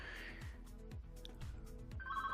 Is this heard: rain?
no